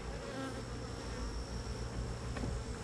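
Honey bees at an open hive in July, during a summer dearth, fill the air with a dense, continuous buzzing hum, close and unbroken throughout.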